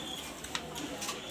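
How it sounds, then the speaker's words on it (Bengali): Pigeons in a box packed for delivery give soft, low cooing in short bursts close by, mixed with faint rustling and no speech. "সবকটা কবুতর এখনই ডেলিভারি যাবে ইনশাল্লাহ"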